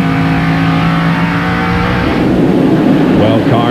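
NASCAR stock cars racing at the 1998 Goody's Headache Powder 500 roar past loudly, one sustained engine note giving way to a rougher multi-car rumble, while a commentator talks over them.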